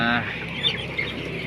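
Broiler chickens fourteen days old on a poultry farm fill the house with a dense, continuous chatter of peeping, with a few sharper chirps standing out over the steady flock noise.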